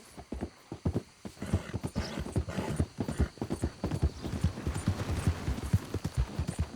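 Hooves clip-clop steadily on a horse in Red Dead Redemption 2, each strike close and distinct in a quick rhythm, with an occasional snort or whinny.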